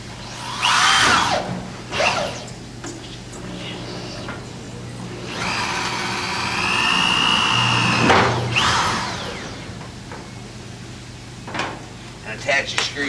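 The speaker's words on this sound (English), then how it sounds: "get into the low of your panel and run the screw through" A power driver sends a screw through the low rib of a metal building panel at a window base, a rising whine of several seconds framed by thuds and handling knocks, with someone talking nearby.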